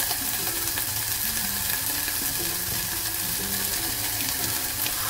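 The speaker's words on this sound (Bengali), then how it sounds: "1 মিনিট একটুখানি আমি সতে করবো, জাস্ট মানে 1 মিনিটও না, ফিউ সেকেন্ডস" Tough onion pieces sauté in a pan for a few seconds, a dense, steady sizzle with faint metallic rattling beneath, close and continuous.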